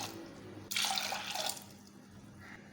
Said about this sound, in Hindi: इसमें हम डालेंगे 2 कप पानी।